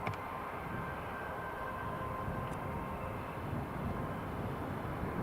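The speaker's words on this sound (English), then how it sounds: "TUI just taxiing in." A TUI airliner taxiing in at Newcastle Airport, a distant steady low rumble of jet engines holding at an even level throughout, with no voices.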